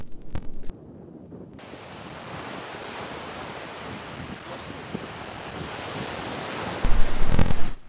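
Wind and waves on Lake Khuskul in Mongolia: a constant roar of surf and gusting wind buffeting the microphone, building slightly and ending in a louder, rougher gust.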